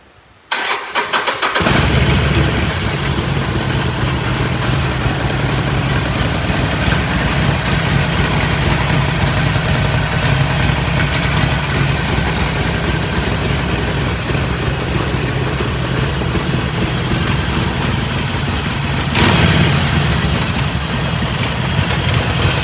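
Harley-Davidson 48 2019 motorcycle, second-hand, starts with a sharp catch after a short silence, then idles loud and close with a steady throbbing rumble for about twenty seconds, with a brief blip near the end.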